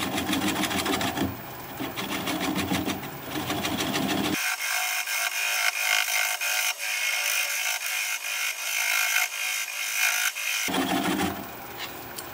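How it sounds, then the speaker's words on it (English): A wood lathe turns a bowl at slow speed, around 400 RPM, under a 3/8 inch sweptback bowl gouge, giving a steady close whirring hum. A bright scraping cut runs through the middle stretch, with no talk. "I'm going to switch to a 3/8 inch sweatback bowl gouge so that I can get in there closer"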